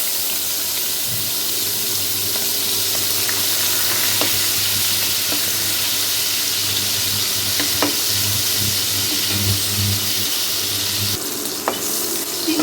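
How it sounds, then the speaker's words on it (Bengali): Prawns frying in hot oil that was just used for potatoes, a continuous crackling sizzle close to the microphone with occasional stirring clinks and scrapes, and no talk over it. "এখন আমি ওই একই তেলের মধ্যে চিংড়ি মাছগুলোকে প্রথমে ভেজে নেবো"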